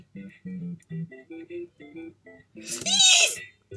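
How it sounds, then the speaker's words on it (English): A child's sharp sneeze bursts out loudly near the end, over simple stepped electronic tones from a Mario video game. "Sneeze!"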